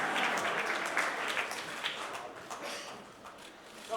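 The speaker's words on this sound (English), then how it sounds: "Big round of applause to Chandra Auntie, please" Audience applause for Chandra Auntie at a brand launch event, a steady wash of clapping that thins slightly toward the end.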